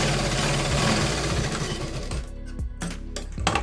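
A sewing machine runs a rapid, steady stitch along a katori blouse cuff, a close mechanical whirr that slows and stops near the end with a few short bursts.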